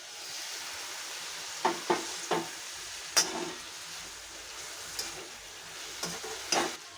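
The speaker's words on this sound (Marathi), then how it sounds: "आता आपण भाजी झाकण काढून भाजी हलवून घेऊ" Ivy gourd vegetable cooking in a pan, uncovered and stirred: a soft, low sizzle with a handful of distinct spatula scrapes and clinks spaced out over the clip, fairly quiet and close, no speech.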